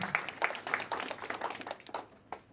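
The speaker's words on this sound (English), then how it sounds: "Let's give a round of applause to Chandaria Foundation." A small audience at a program launch event gives sparse, faint applause made of a handful of distinct, uneven claps spaced out over a couple of seconds.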